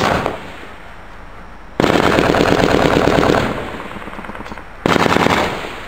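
Bursts of .50 caliber machine gun fire during a firefight in Afghanistan, with possible malfunctioning; two loud sustained rapid volleys separated by a quieter stretch of distant gunfire, no talk.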